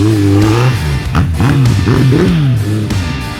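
A Suzuki Bandit motorcycle engine revs hard and close, its pitch rising and falling in several quick surges before settling into a steady roar.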